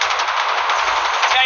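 A machine gun fires in the Call of Duty zombies video game, one loud, rapid, unbroken burst lasting about a second and a half.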